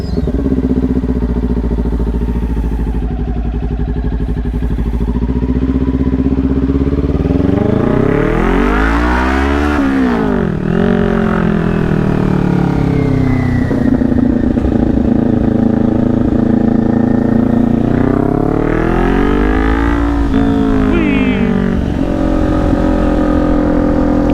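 A motorcycle rides through city streets at dusk, its engine droning loudly and continuously with repeated rising and falling revs as it accelerates and shifts, heard up close from the bike.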